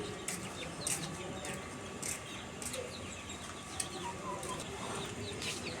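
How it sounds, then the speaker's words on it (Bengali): Desi hens clucking in a backyard flock, with scattered short calls and chirps over a steady low outdoor hum, fairly faint and intermittent with no talk. "এই মুরগিটা আবার ক ক করছে বন্ধুরা"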